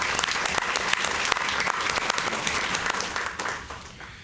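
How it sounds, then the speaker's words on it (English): A brief round of applause at a board meeting, steady clapping from a seated audience that holds for a few seconds and then tapers off. "So I think it's okay to give him a brief round of applause in absentia."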